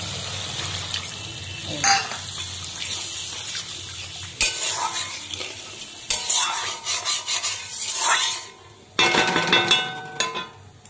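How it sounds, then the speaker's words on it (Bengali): Spice masala frying in oil in a home kitchen pan, stirred with scraping clatter, then bursts of water poured in raise loud sizzling hiss in several surges. "মশলাটা তেল ছেড়ে দিয়েছি, জল দিয়ে দেবো।"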